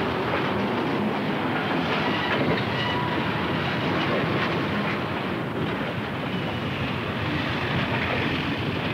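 A freight train rolls past on rails, a loud continuous rumble of wheels with clickety-clack over the joints and occasional squeal, close and sustained for the full stretch with no speech.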